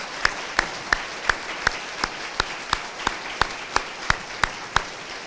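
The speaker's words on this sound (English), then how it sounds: "join me in a big round of applause for our scholars." An audience at a scholarship dinner claps for the award recipients in a steady, evenly spaced rhythm of about fifteen sharp claps over low room ambience.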